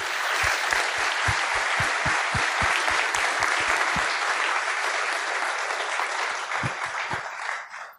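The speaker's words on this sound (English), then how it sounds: "So please give a warm round of applause for all our amazing sponsors." Warm sustained applause from a conference audience for event sponsors, a dense steady roar of many hands that holds for several seconds before tapering off at the end.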